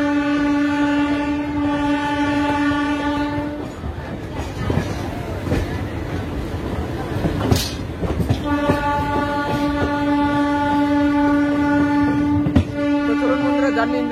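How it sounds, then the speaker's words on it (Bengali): A MEMU passenger train running from Ranchi to Asansol rumbles steadily along the track with clattering wheels, while long sustained horn blasts sound near the start and again later, loud and close throughout. "ট্রেন আমাদের বেরিয়ে গেল নির্ধারিত সময় থেকে 1 ঘন্টা দেরিতে"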